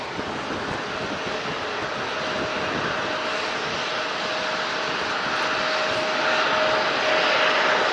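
A NetJets private jet at San Diego International Airport gives off a steady, broad engine roar with a faint high whine running through it, loud and continuous and slowly swelling, with no voices.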